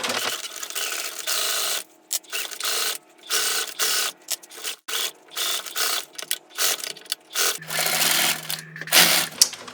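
Sewing machine stitching two layers of mitten fabric, running in short bursts of rapid needle chatter broken by brief pauses, close and fairly loud, with no talking.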